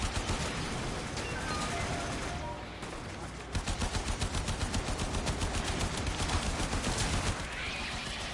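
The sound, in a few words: missiles hitting the player in the video game Warframe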